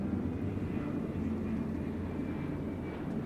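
A passenger airplane taxis after landing at a small domestic airport, its engines giving a steady, loud low drone and hum from inside the cabin, with no talking.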